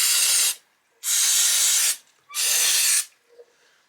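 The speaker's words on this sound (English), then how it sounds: "This is contact cleaner, but any electrical cleaning aerosol will do the trick." Contact cleaner aerosol sprayed onto the circuit boards of a plasma cutter under repair, giving three loud, steady hissing bursts of roughly a second each with short silent gaps between them.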